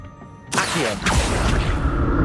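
Accio summoning spell in the Hogwarts Legacy video game, a sudden loud swooshing rush after a quiet half-second, followed by a second surge and a sustained, noisy magical wash to the end.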